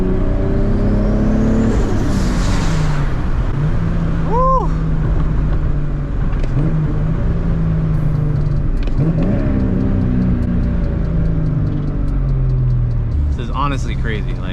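A JZ-engined Nismo car pulls hard under turbo boost, its engine droning loud and close with rising and falling pitch through gear changes, while a driver talks over it inside the cabin.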